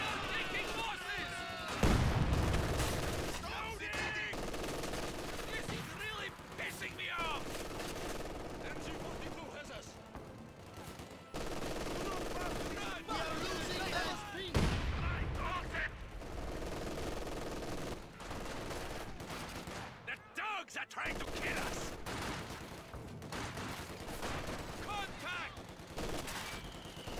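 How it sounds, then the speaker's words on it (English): Heavy machine gun fire in Company of Heroes 2, an MG42 battle: sustained loud bursts of automatic gunfire and crashing impacts fill the scene, rattling on and off over continuous battle noise with voices calling out in between. "MG fire! HMG firing on us!"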